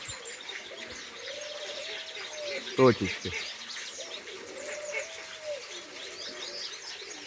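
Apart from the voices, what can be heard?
pigeons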